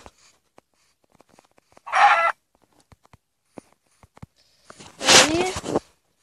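A Minecraft chicken giving two short clucking calls a few seconds apart, clear and close against near silence with faint clicks between.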